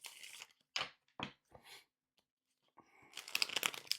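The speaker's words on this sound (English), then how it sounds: "Give it another shuffle." Oracle cards shuffled by hand, with a few short separate riffles early on and then a denser run of crisp, papery shuffling close up at the end, with no talk.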